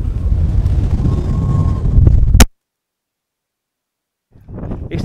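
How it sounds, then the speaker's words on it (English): Wind blowing across St Sunday Crag, a winter mountain summit in the Lake District, as a loud roaring buffet on the microphone. It cuts to silence midway, then gusts return near the end. "It's the wind, isn't it?"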